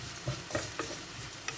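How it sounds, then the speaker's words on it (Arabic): Rice browning in hot oil as it is stirred, a dense close sizzle punctuated by several quick scraping strokes of the spoon. "هنايا غادي نديرو الروز يتحمر شويه نخلطوه باش يشرب هذاك الزيت"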